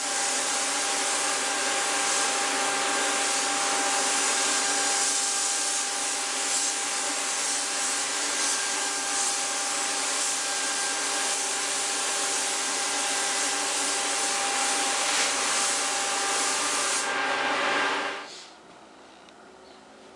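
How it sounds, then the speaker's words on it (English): A continuous hissing spray of silver paint from an airbrush runs steadily for most of the clip, then cuts off abruptly near the end, leaving a quiet background hum. "I'm going to spray probably 2 coats of silver on until it's covered"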